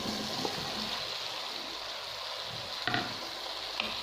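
Eggplant simmers in a pan with tomatoes and garlic, cooked in the sauce rather than deep-fried, giving a steady close sizzle and bubbling with a few soft stirring clicks and scrapes.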